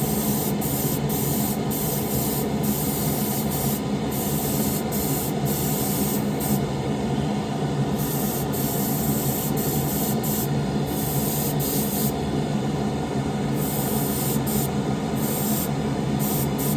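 A steady, continuous airbrush hiss spraying paint without a break, even and fairly close, with faint flutters in the airflow and no talking.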